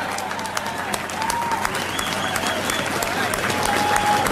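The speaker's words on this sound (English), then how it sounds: "Let's give them the round of applause that they deserve for building this project." A large crowd applauds the builders at the opening of Boston's Big Dig harbor tunnel, with steady, moderately distant clapping and a few voices and chirps mixed in throughout.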